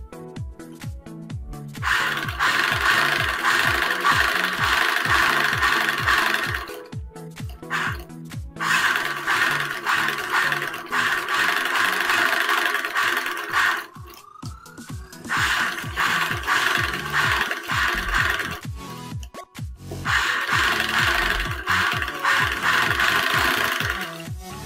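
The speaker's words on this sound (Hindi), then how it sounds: "उसी तरीके से हम ये अब हम इसको सिलाई लगाएंगे।" Sewing machine stitching a designer blouse, its fast rhythmic mechanical whirr running in long loud bursts separated by short pauses, close up with no talking.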